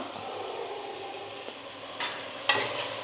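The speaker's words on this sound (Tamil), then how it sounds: "எல்லாம் சேர்த்ததுக்கப்புறம் 1 நிமிஷம் நல்லா வதக்கிக்கலாம்." Potatoes and green peas for a kurma are stirred in a pan over a soft, steady sizzle, with a couple of sharper scrapes near the end, quiet and close.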